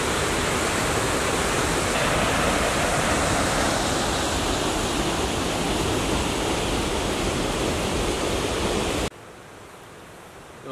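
A powerful waterfall at a hidden outdoor spot roars loud and close as a dense, unbroken wash of rushing water for about nine seconds. Then it abruptly drops to a much quieter background hiss.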